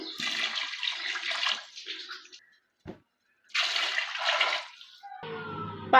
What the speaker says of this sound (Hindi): अब इसमें हम पानी डाल देंगे।